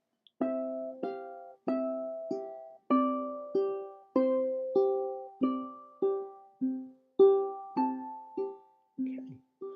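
A ukulele picked slowly and alone with an alternating thumb technique, each plucked note or chord ringing out and decaying before the next in a steady, unhurried pendulum rhythm.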